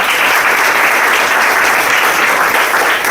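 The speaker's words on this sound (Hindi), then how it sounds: "इनके लिए जोरदार ताली होनी चाहिए।" An audience at a business opportunity presentation breaks into loud, sustained applause for a guest, a thick continuous wash of many hands clapping that holds steady throughout.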